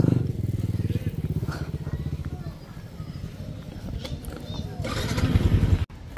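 A motorcycle engine idles steadily close by with a low, continuous rumble throughout. A person talks over it.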